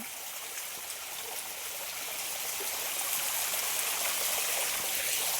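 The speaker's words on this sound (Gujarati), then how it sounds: "આ સાઈડ જો મસ્ત મજાનો ધોધ પડે છે" A waterfall at Ranitunk hill, Dantiwada, roars steadily in a dense, hissing wash, growing slightly louder over the few seconds, with no voices.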